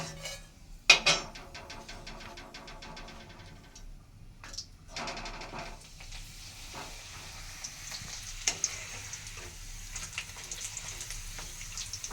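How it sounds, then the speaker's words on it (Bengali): Papad frying in a pan, a crackling sizzle with stirring and clinks of utensils against the pan, a sharp clatter near the start, then a steadier, quieter fry. "পাঁপড় ভাজছি"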